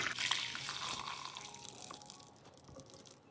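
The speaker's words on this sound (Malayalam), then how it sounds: "ഇനി നമ്മൾ വേവിച്ചെടുത്ത ചവരി ഒരു അരിപ്പയിലേക്ക് അരിച്ചൊഴിക്കാം" Cooked sago drains through a strainer with a steady wet pour and light dripping water, fairly quiet and close, tapering off toward the end.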